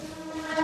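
The Mook Mati Express 11072 passenger train, running from Jabalpur to Raipur, rumbles along in a brief, steady, close drone with a faint tonal hum rising at the end.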